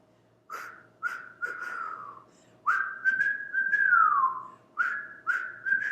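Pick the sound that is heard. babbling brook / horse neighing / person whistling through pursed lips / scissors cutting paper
person whistling through pursed lips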